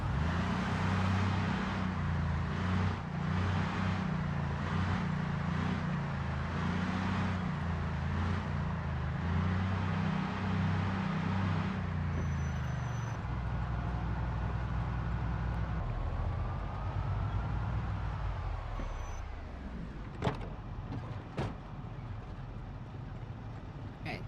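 A loud car engine drones steadily in the zombie survival game Project Zomboid, a constant rumbling idle that shifts pitch midway and then fades, followed by a few sharp clicks.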